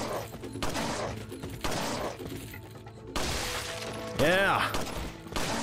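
Gunfire in the Resident Evil 4 video game, several loud shots and impacts mixed with game music and effects, while someone speaks briefly over it.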